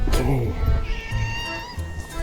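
A hungry stray cat meows loudly and close by several times in a row, its cries overlapping with low background voices.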